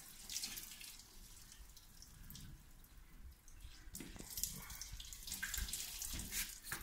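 Water running and splashing from a tap-like stream, rinsing a car headlight during cleaning, steady and fairly close for the whole stretch, with louder gushing bursts toward the end.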